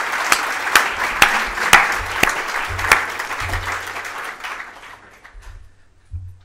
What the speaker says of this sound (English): large round of applause for the sponsors for helping make this happen